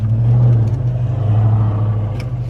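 A Dodge Challenger engine idles with a deep, loud, steady rumble close by, a low throaty burble holding throughout.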